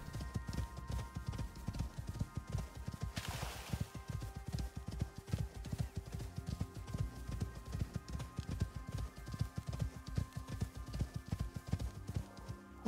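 Hooves of a ridden mount in the survival game Icarus: New Frontiers, a fast, even clip-clop that is loud and continuous, with a brief burst of noise early on.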